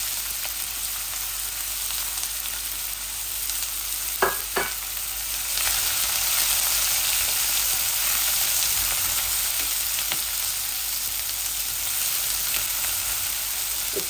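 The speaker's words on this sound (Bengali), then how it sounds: "এই তেলগুলো আমার গরম হয়ে গেছিল। এখন আমি পেঁয়াজ দিয়ে দিচ্ছি।" Chopped medium-sized onion frying in hot oil in a pan as chicken is prepared, a steady close sizzle throughout with a couple of brief clatters early on and no talk.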